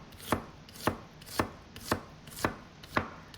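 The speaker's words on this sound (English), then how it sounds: "Cut the tomato into 1/2-inch pieces too." A knife chops a tomato into half-inch pieces on a board, six evenly spaced crisp knocks about half a second apart, close and quiet, with no talk.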